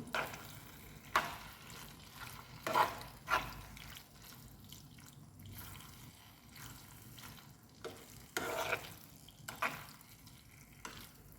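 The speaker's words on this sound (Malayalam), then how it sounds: "ടീസ്പൂണോളം ചേർക്കാം ഇളക്കി കൊടുക്കാം" Pasta being stirred in a frying pan, a soft ongoing sizzle with wet, sticky scrapes and clinks of the spoon coming in occasional louder bursts, fairly quiet and without talk.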